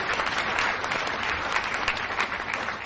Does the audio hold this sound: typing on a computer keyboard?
no